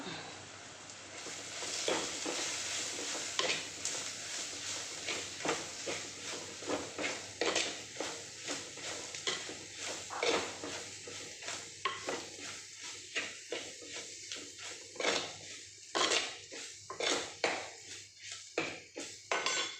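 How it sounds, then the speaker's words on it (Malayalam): A spoon scrapes and clinks around a pan as masala powder is stirred into mushroom curry, busy close stirring with light sizzling underneath and occasional metallic taps. "അപ്പം എല്ലാം കൂടി ഒന്ന് ഇളക്കി യോജിപ്പിക്കാം."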